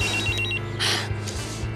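A telephone rings with a bright electronic trill in short repeated bursts, clear and close in a quiet indoor scene from a television drama.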